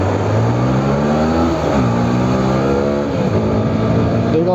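A car engine revs hard and accelerates to overtake on a rough road, a loud, steady drone rising and falling in pitch through shifts, heard from close by without talk.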